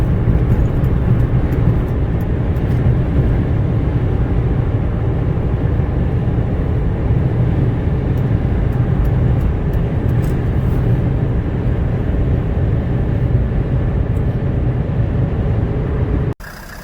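Naturally aspirated Mercedes-Benz E300 diesel car cruising on the road, giving a steady, loud low engine drone with road rumble throughout, ending abruptly near the close.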